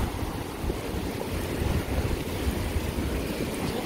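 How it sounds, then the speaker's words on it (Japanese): A natural waterfall pours with a constant, dense rushing roar at moderate volume, steady and unbroken, with no voices over it. "滝だ、天然の"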